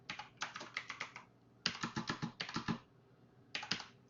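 Keyboard typing while writing Python code: bursts of rapid, close clicking keystrokes separated by short pauses, with no talking.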